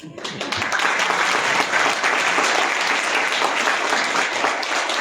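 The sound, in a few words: applause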